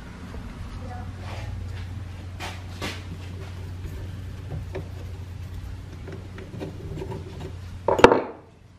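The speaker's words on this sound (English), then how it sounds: "I'm going to clean this up a little with sandpaper and that should slide right out." Sandpaper rubs a stuck, bent machine part in a steam-powered machine shop, giving repeated raspy strokes over a steady low mechanical hum, ending in a brief louder clatter.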